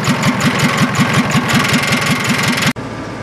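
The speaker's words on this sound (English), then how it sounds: "I got it to start and idle, but it won't do anything past that" An old Volkswagen Rabbit engine idles roughly after being restarted, a loud, close, steady low chugging with a regular pulsing beat that suddenly cuts to a quieter hum near the end.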